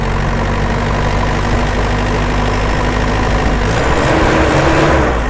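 A Dragon Power 3.0 pump engine runs loud and close, a steady droning roar that rises as it is revved near the end.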